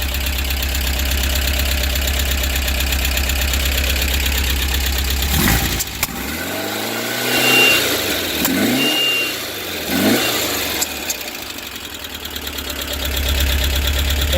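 An original Porsche 912 or 356 engine idling with a carburetor that pops now and then, running steady and loud up close, with a few rev blips and dips in the middle before settling back to a rough idle.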